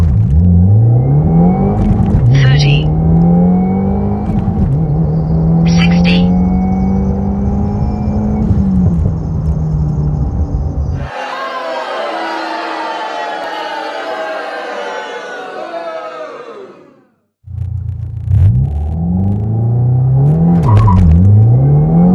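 A Subaru car with an FA20 or FA24 engine pulls hard through a drag run, the loud engine note climbing through several gear shifts, then giving way to a buzzy whine that drops out before the engine resumes revving.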